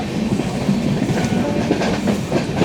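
Tutari Express, the Dadar–Sawantvadi service hauled by a WDP 4D diesel locomotive, rolls through Sindhudurg station with steady rumbling and rhythmic clickety-clack of wheels over rail joints, loud and close throughout.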